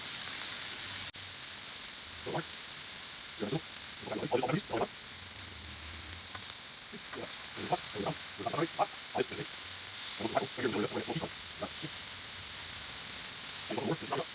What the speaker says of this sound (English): We're running on a medium heat with the Blackstone today. Get these browned up nice.